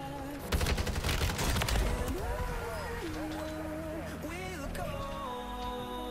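Call of Duty Warzone gunfire cracks out in a dense, rapid burst early on. It then gives way to in-game tones, with voices talking over the action.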